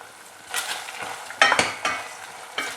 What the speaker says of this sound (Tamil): நல்லா மிக்ஸ் பண்ணிக்கிறேன்.